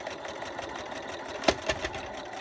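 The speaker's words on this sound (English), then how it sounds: "we're sewing right along the edge." A sewing machine stitching a quilt square and strip together along the edge, a soft, steady mechanical whir with a couple of brief clicks, fairly quiet and close.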